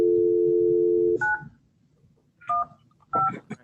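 Telephone keypad tones during a remote court hearing: a steady dial tone followed by several short touch-tone beeps in quick groups, loud and close, with no speech.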